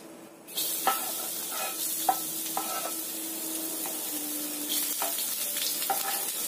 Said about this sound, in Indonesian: Kita tumis bawang putih dan juga cabenya.